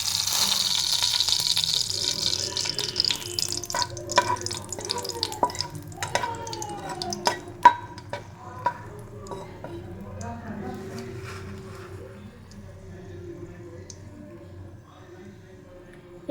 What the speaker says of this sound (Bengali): তেলটা গরম হয়ে গেছে, দিয়ে দিচ্ছি শুকনো লঙ্কা ফোড়নে।